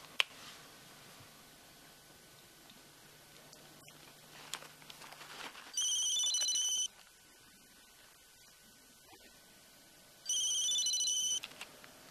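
A mobile phone ringtone in a Romanian film rings in two separate bursts of a bright, repeating electronic melody, each lasting about a second, loud against a quiet background.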